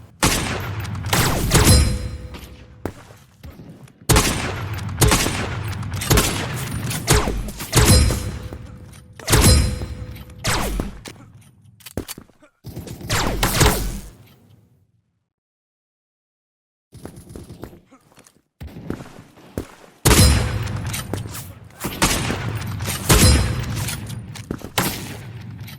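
Modded Krunker sniper rifle shots built from an electronic darts machine double bullseye sound, a series of sharp punchy blasts with ringing tails, spaced about every two seconds, with a silent gap partway through.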